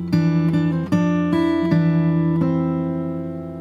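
Fingerstyle guitar picks out a bar of a song, with bright harmonic-like notes, an open third string and a few plucked attacks ringing and slowly fading, clear and close with no talking.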